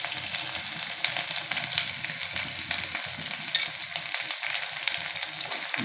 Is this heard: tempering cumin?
yes